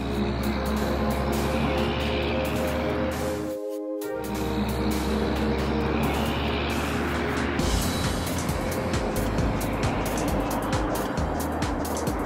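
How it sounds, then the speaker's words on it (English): Cartoon auto transport truck driving by, a loud rumbling engine drone with a steady low hum, briefly cut to near silence, then rolling on with gritty road noise and rising clatter. "Auto transport truck"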